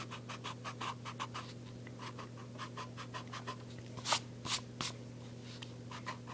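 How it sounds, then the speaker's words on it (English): Pencil eraser rubbing on paper during a manga face drawing: quick rhythmic scratchy strokes close up, then a few sharper swipes near the end, no talking. "Now you can erase the center divider."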